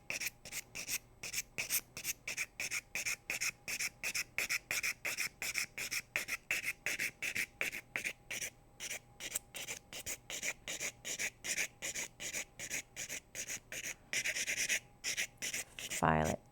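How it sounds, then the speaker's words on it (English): A file rasps across a nail in steady, rapid back-and-forth strokes, close and fairly quiet, with the scratching rhythm running throughout. "File it down."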